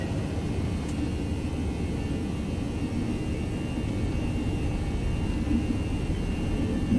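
Airliner engines spool up for takeoff in the X-Plane 11 flight simulator, a steady, loud roar and whir that holds evenly throughout, with no voices.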